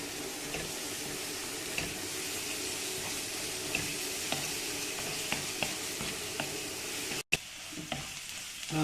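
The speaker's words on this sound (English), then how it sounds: "As we start frying it over time, you'll find the oil starts coming out of the masala." Masala frying in oil in a pan, a steady close sizzle with occasional soft stirring clicks, continuous and unbroken apart from a brief dropout near the end.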